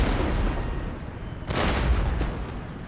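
Artillery cannon fire in the Empire: Total War strategy game, a sustained rumbling barrage with a louder burst of booming shots partway through, no voices over it.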